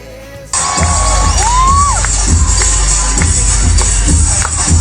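A noontime TV variety show's studio audience bursts into loud shouting and cheering that erupts suddenly and keeps going at full strength, with high excited yells rising above the crowd.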